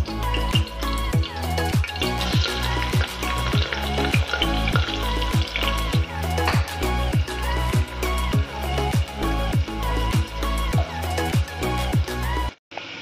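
Onions sizzle and fry steadily in a pan for homemade chicken biryani, a loud continuous crackle broken by regular rhythmic stirring scrapes throughout, with no talking.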